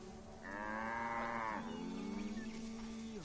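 Cattle in the video game Assassin's Creed Origins, set in ancient Egypt, give one long, clear moo that swells and trails off, heard alone against quiet ambience with no one talking.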